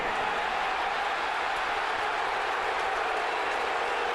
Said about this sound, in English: That's why the crowd went nuts.